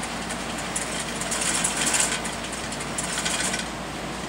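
A sewing machine fitted with a binder attachment runs steadily, giving a continuous mechanical whir that swells slightly in the middle and then settles, close by with no speech.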